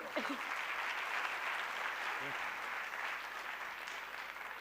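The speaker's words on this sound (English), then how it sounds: "Yes, claps please." An audience at a knowledge-series talk applauds, a steady, fairly faint and even wash of clapping with a few brief voices rising over it.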